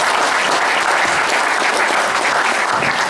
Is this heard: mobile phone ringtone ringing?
no